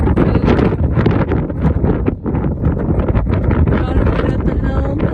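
Strong wind of about 30 knots blows across a sailboat at anchor near Dubrovnik, a loud continuous buffeting roar with gusts hitting the microphone, briefly easing midway.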